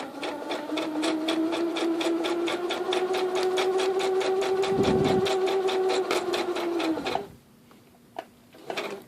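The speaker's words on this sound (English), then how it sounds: "Knot, needle down, stitch all the way across." A sewing machine stitches quilt pieces in a fast, even run of needle strokes for about seven seconds, close and loud, then stops, leaving a few faint handling sounds.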